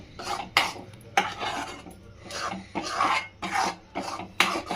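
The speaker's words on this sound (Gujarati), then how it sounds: "ધીમા ગેસ ઉપર પકવવાનું ને હલાવતું જ રહેવાનું" A sweet mixture is stirred in a pan over low heat, producing repeated scraping and rasping strokes of a utensil against the pan in close, fairly loud bursts, with no voices.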